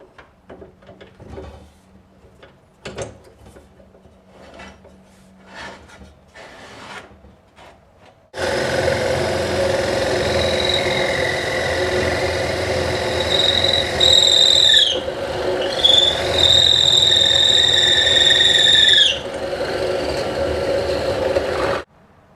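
A plunge router bores holes through a block of wood for a mallet, starting with a few faint handling knocks, then spinning up into a loud, steady high-pitched whine and roar that shifts pitch as it cuts before cutting off.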